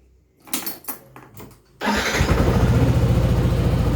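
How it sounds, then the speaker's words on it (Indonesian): Motorcycle engine cranked with an electric starter, a few short clicks and whirs before it catches and settles into a loud, close, steady idle. "Kita akan starter dan kemudian kita matikan dengan mencabut sekringnya."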